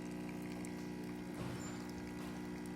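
An espresso machine runs with a steady, loud pump hum while water flows through it, making a constant droning rush with a brief surge partway through and no voices.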